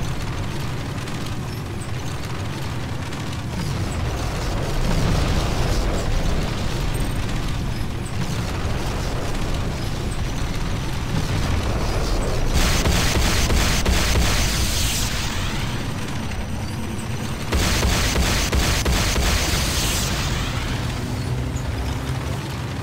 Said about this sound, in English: Warning, GDI weapons factory under attack.